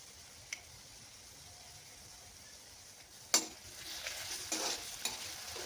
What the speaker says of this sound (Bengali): আদা নহৰুৰ পেষ্টটো দি মই তাৰ কেঁচা গোন্ধটো যোৱালৈকে মই অলপ টাইম এনেকৈ ফ্ৰাই কৰি থাকিম